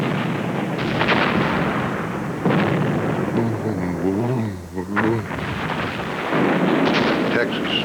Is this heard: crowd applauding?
no